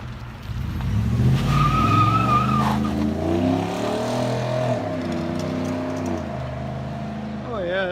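A 2020 Ford F-150's 5.0-liter Coyote V8 roars and revs through its exhaust, its pitch rising and falling through several surges, loud and close, with a voice briefly heard.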